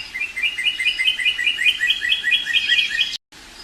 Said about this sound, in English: This is a red cardinal, Cardinals cardinalis.